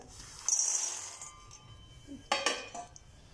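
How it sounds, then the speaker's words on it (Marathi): An iron kadai set down on a stove for roasting peanuts, giving a short metallic clank followed by a second clinking knock, close and fairly quiet against a faint background. "कढई ठेवली मी, लोखंडाची कढई ठेवली दाणे भाजायला."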